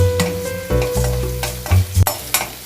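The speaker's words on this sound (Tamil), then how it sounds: "பூண்டு, இஞ்சி, பச்சை மிளகாய், இதை கொஞ்சம் லைட்டாக ஃப்ரை பண்ணிக்கலாம்." Garlic, ginger and green chili fry in hot oil in a pan for paneer schezwan noodles, with a steady sizzle broken by loud scraping strokes and clanks of a spatula stirring near the mic.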